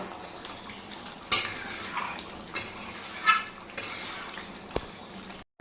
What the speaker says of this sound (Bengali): তো এর মধ্যে আমি এই আলুটা দিয়ে দেবো। আলুটা দিয়ে একবারে কষিয়ে নেব।